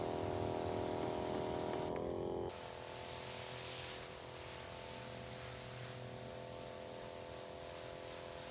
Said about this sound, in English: Turn it on and spray.